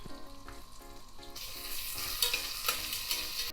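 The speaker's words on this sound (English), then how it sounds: "I'm adding the ginger garlic paste." Ginger garlic paste sizzles and fries in hot oil with spices for a kuska biryani, a dense steady crackle that swells louder after the paste goes in, close and continuous with no talk.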